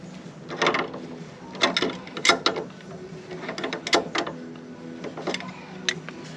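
Ratcheting and metallic clicks from tightening a nut onto a trailer wheel hub during a roadside hub replacement, coming in irregular close bursts of clicks and clanks with no talking.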